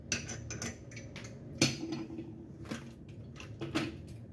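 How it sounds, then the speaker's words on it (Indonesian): Eggs beaten with salt, pepper and stock powder in a bowl, a utensil clinking and tapping against the sides in quick, irregular strokes, close and fairly quiet. "ini telurnya kita kocok lepas hingga sampai semuanya larut dan tercampur merata"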